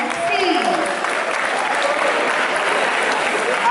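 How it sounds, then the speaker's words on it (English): An audience at a school farewell ceremony gives loud, continuous applause throughout, a dense wash of clapping with some crowd noise mixed in. "A big round of applause for class 12C."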